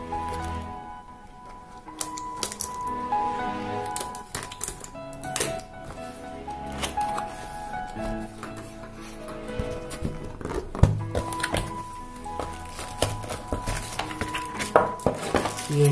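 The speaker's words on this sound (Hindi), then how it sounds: "ये है कीबोर्ड, फटाफट से इसको खोलते हैं," A Logitech K120 keyboard package is unboxed by hand: close plastic and cardboard rustling, crinkling and scattered clicks and taps of handling, irregular and continuous throughout.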